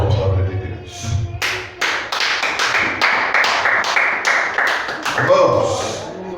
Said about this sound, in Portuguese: dê uma linda salva de palmas à palavra de Deus.